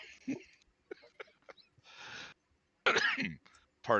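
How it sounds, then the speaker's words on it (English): A person coughs and clears their throat several times in short, rough bursts, close and fairly loud, with brief pauses between. "I need to cough for 1 second."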